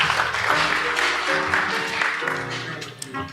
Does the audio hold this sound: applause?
yes